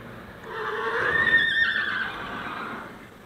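A horse at a hay-feeding spot lets out one drawn-out whinny, fairly close and clear over a light outdoor background.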